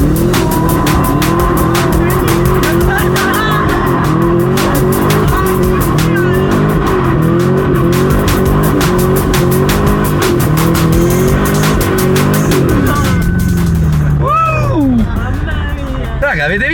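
A 2010 Chevrolet Camaro SS with a 435 hp rear-wheel-drive V8 is driven hard on an open lot, engine roaring loudly and tires squealing in long sweeping wails, with people talking excitedly over it.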